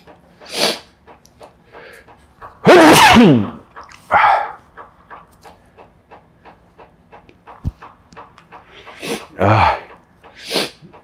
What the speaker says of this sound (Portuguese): Aquelas caretas de espirro que acaba com a nossa vida